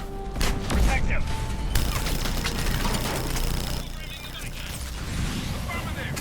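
Gunfire in a Mass Effect 3 battle on Insanity difficulty: continuous mechanical weapon fire and rattling bursts with booming impacts, dense and steady, with voices under the noise.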